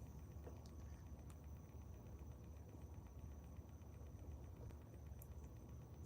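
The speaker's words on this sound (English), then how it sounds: "Cicada making noise" A cicada's faint, persistent buzzing drone carries steadily from a distance, joined by a few soft clicks, with no talking.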